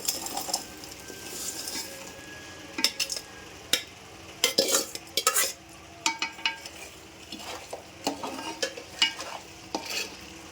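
Chicken pieces stirred in a pan of spiced masala for chicken pickle, with uneven scrapes and clinks of a spoon against the pan over a low sizzle.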